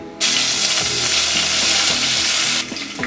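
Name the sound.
curry leaves frying in hot oil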